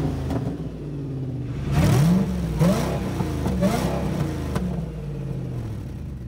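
The engine of a damaged salvage-auction Ford GT runs close by. A steady, rumbling idle is broken by a few quick rev blips that rise and fall, then settles back, with no talk.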